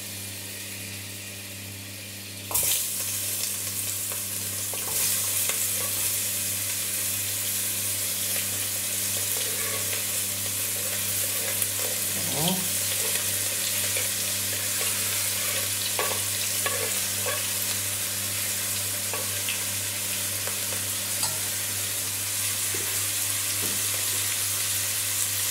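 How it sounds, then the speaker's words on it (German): Onions dropped into melted butter in a pan set off a sudden bright sizzle that continues steadily, with faint stirring clinks and scrapes scattered through. "Jetzt packen wir die Zwiebeln rein."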